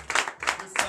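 Congregation applause at a Sunday church service in Comè, Benin, swelling in three short bursts of clapping and cheering voices within a moment.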